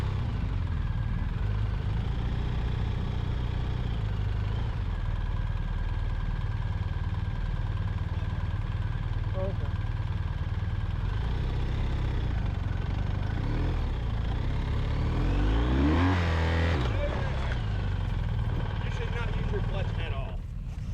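A BMW adventure motorcycle engine runs and revs in a sand pit during off-road training, a steady close rumble with a louder throttle surge near the end, while people talk over it.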